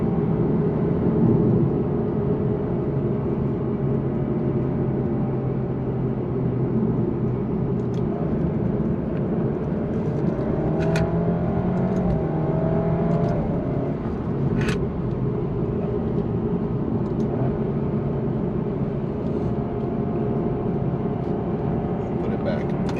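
A 2020 Alfa Romeo Giulia sedan accelerating after a downshift, with a steady loud engine and road roar from inside the cabin and rising engine tones partway through.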